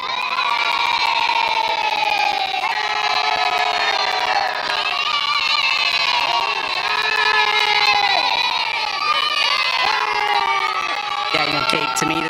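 The Rakia Mission Control team in Tel Aviv cheers on a moon mission. A close, loud burst of excited shouting, whooping and cheering from many voices continues throughout, ending with a short clatter.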